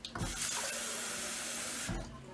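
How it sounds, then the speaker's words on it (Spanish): Water runs in a strong, continuous gush for about two seconds as it is poured over a chickpea and seafood stew to cover it, close and splashy, then cuts off abruptly. "Le vamos a echar más agua que cubra."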